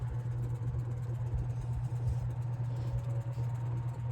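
A vintage Air King PL 20 E box fan motor running and gradually speeding up, a steady low electric hum with a faint whir, close and fairly quiet, no voices.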